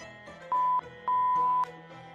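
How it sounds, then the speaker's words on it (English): Two steady electronic tones sound close and clear, a short one and then a longer one, over low background murmur. They resemble a monitor's flatline alarm. "You're flatlining over there. You beeped."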